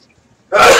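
A single sharp sneeze bursts out loud and close after a moment of near silence, then holds briefly as a breathy rush.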